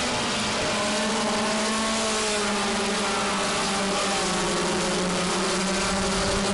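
Race cars howling around a New England short track, a loud sustained engine drone with rising and falling pitch as several cars pass, no talk.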